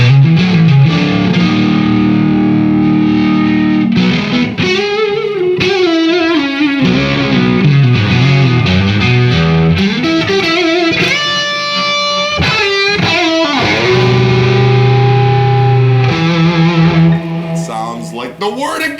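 Electric guitar played loud through a Friedman 40-watt amplifier, heavily distorted chords and riffs ringing continuously with sliding bends and sustained notes, full and close throughout.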